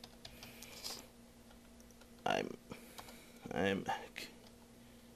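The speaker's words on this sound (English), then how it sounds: "So I'm gonna just go ahead and type info." Keys on a computer keyboard clack in short bursts, a few soft taps and then two louder flurries, close by, with someone speaking briefly near the start.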